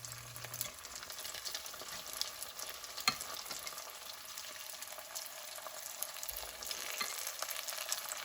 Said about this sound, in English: So with this pot, you can actually fry vegetable roll.